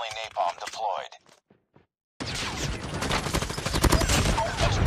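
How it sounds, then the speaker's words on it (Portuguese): Rapid automatic gunfire from a Call of Duty Mobile multiplayer match, a dense, loud stream of shots that starts abruptly after a few seconds of talk and near-silence and keeps going to the end. "Fala pra mim se arma aceleradinha não é massa, cara"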